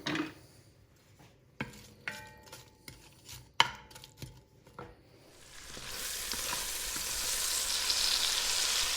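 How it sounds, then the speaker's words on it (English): Onion sautéing in olive oil in a soup pot: a few knocks and clatters of utensils against the pot at first, then a steady rising sizzle of frying that holds loud and continuous to the end, with no voices. "Now we'll put our onion in the soup pot with some olive oil and begin to saute the onion"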